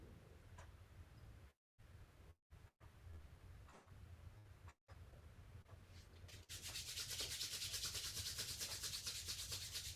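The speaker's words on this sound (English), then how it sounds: "Rubbing the hands when you're done with your 10." Hands rub together during a quiet yoga session: a soft, low scuffing at first, then a brisker, louder dry friction over the last few seconds, with no talking.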